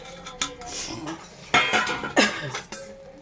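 Eggs go into an egg gravy curry in a pan: a few close clinks and knocks of utensils against cookware, with a brief louder clatter, over a low background.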